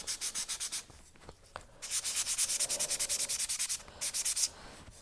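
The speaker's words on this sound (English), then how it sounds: "But when I cut it from sheet, I'm going to want to sand it a little bit." Die-cut metal clay sheet sanded by hand in short, rhythmic back-and-forth strokes, a bright scratchy rasp repeating in quick bursts with brief pauses between sets, close and clear with no talking.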